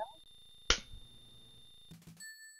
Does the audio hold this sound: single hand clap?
yes